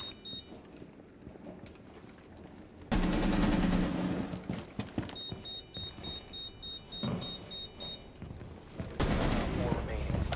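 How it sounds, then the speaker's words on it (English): Dense automatic gunfire bursts in Rainbow Six Siege, loud and close, starting abruptly and running in long sustained volleys with brief pauses. The game's electronic beeping sounds over it. "Was he not just shooting you?"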